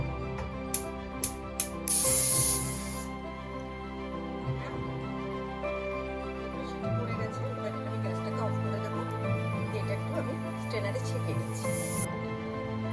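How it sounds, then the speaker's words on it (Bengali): A gas stove burner lit under a pressure cooker of chopped banana stem, a few sharp igniter clicks followed by a close, steady gas hiss that fades after a couple of seconds, with music playing throughout. "কুকারে আমি থোড়টা বসিয়ে দিলাম, এবার গ্যাসটা অন করে দেব।"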